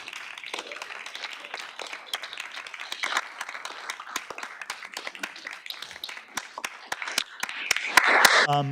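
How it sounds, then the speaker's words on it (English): Fairly quiet scattered applause from the audience at an entrepreneurship competition semi-final evening, with sharp individual claps over a soft bed of clapping, swelling into a louder burst near the end. "a round of applause, please, for our 5 judges this evening"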